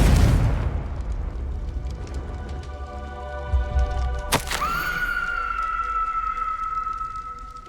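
A Confringo blasting spell in Hogwarts Legacy gameplay lands with a sharp crack and boom amid a rumbling game ambience, followed by a sustained ringing magical tone that lingers.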